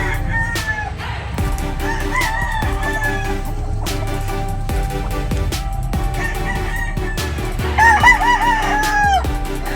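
Several roosters crow on a gamefowl farm, with overlapping cock-a-doodle-doo calls near and far, clucking fowl and general barnyard noise throughout, loud and busy.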